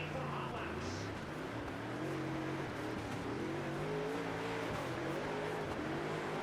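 A dirt race car engine in World of Outlaws Dirt Racing drones and revs steadily, its pitch rising and falling through gears at close range, loud and continuous with no talking.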